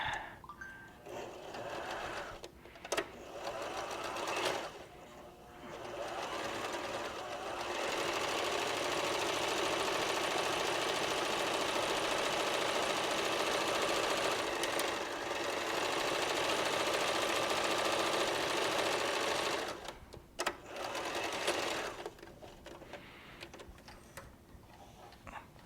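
A serger sewing machine stitches a beanie hat, its steady whirring hum running loud and continuous for most of the stretch, with brief pauses and clicks near the start and end.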